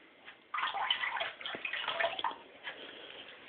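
Warm water runs and splashes into a reptile feeding tank, a fairly close, steady gush that swells for about two seconds and then thins to a quieter trickle.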